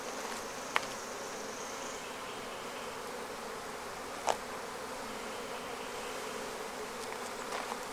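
Honeybees drone steadily around an open red Flow Hive box at sunset, a continuous close hum with a few faint clicks and knocks of hive parts.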